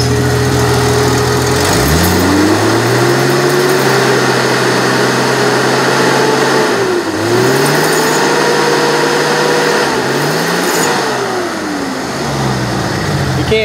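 Electric radiator cooling fans on a Jeep XJ with a two-core radiator roar loudly and steadily from close by, their droning pitch dipping and rising several times as they run, with no talking.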